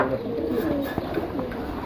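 Several pigeons from a seller's stock of a single breed coo in low, throaty rolling phrases, overlapping steadily and close by against a faint background hum.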